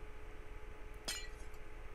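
A glass block breaking in Minecraft gives a single crisp, bright shattering clink over low steady background hum, standing alone with no talking.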